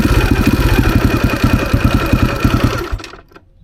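A dirt bike engine runs with a rapid, steady chugging pulse, loud and close, while the rider tries to shift it toward neutral; near the end the engine cuts out and the sound drops away.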